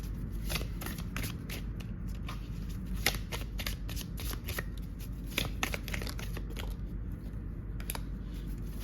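Tarot cards are shuffled close up in a quick run of dry riffling flicks and soft slaps that repeat through the whole stretch, with no speaking.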